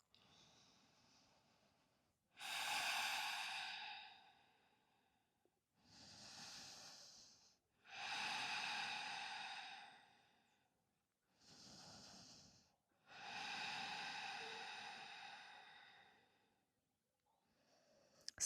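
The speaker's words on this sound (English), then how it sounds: "So breathing fully and deeply." Slow, deep breathing during a yoga stretch pose, heard close and alone as four or five long, airy inhale and exhale swells separated by quiet pauses.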